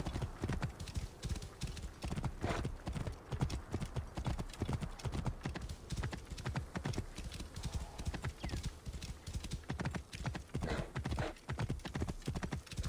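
Horse hooves gallop in Assassin's Creed Origins, set in ancient Egypt: a fast, steady clip-clop rhythm running close and loud throughout, with the odd faint whinny and light voices beneath.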